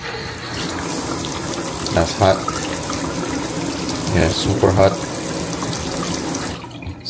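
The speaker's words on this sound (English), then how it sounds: "Now we got water running, hot water as well as cold water." Hot and cold water runs steadily from the faucet of a newly installed hair-wash bowl at a salon sink, a continuous splashing hiss with people talking briefly over it.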